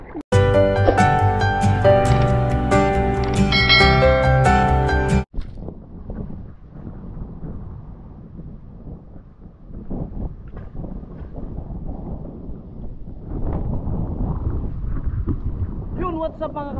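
After a few seconds of loud music, strong typhoon wind roars and buffets the microphone in uneven gusts, swelling louder toward the end.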